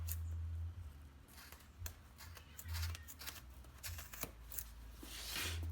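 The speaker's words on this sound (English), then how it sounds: "I'm just going to cut this right along that sewn edge." Scissors cutting along the sewn edge of a thick turbo blanket for a Dodge Cummins, a run of quiet crunching snips and rustles in an irregular rhythm over a low steady hum.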